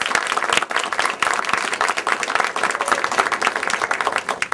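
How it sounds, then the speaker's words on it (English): Applause from a meeting audience for two candidates for circuit court clerk, a moderate round of individual claps that is clearly distinct and fairly close, continuing steadily throughout. "I'd like a really nice round of applause for your two excellent candidates."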